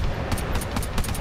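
Automatic gunfire in the co-op shooter GTFO, fired from an elevated position: a quick string of sharp, fairly faint shots ticking steadily under a low rumble of game ambience.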